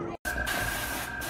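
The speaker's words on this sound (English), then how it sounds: "Here's Elijah spraying with the airbrush" Steady hiss of an airbrush spraying, used by a child decorating an after-school snack in a home kitchen, a continuous close airy spray with a brief gap near the start.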